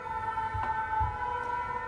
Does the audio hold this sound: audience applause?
no